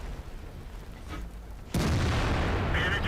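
A tank cannon in World of Tanks fires and strikes an ARL-44, one abrupt heavy boom that cuts in midway and leaves a sustained loud rumble, with no talking.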